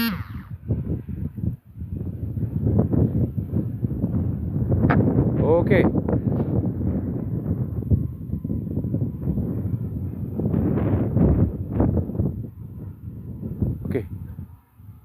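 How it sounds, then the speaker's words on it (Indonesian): Strong gusts buffet an outdoor microphone during a DJI LITO X1 drone flight test, a steady low rumble running through the whole stretch with someone talking over it. "Angin kencang kali ini teman-teman."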